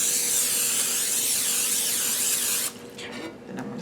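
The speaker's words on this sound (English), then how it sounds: "I'm going to spray my pan." A continuous hissing spray from a cooking spray can onto a baking pan, close and steady for a few seconds, then cutting off to quieter rustling.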